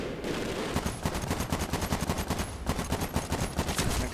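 Rapid automatic gunfire from the Medal of Honor Warfighter video game, a dense continuous burst of shots with brief dips, loud and close throughout, with no talking over it.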